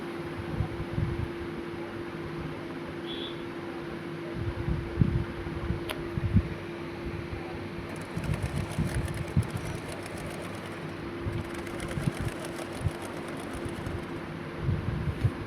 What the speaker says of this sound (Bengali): এবার আমি ভেতর সাইডটা সেলাই করব পা থেকে